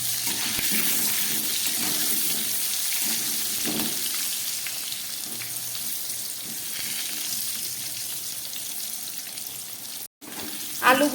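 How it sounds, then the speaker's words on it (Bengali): Potato pieces with salt and turmeric fry in a wok, giving a steady close sizzle with occasional stirring scrapes and soft clinks, pausing briefly before a few louder knocks at the end. "আলুগুলোর মধ্যে আমি একটু সামান্য নুন দিয়ে দিলাম আর একটু হলুদ দিয়ে দিচ্ছি, দিয়ে একটু ভালো করে আলুটাকে আমি ভেজে তুলে নেব"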